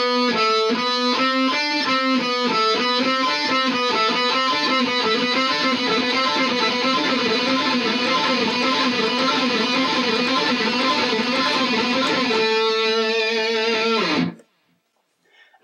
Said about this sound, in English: Obviously, I'm playing with distortion right now.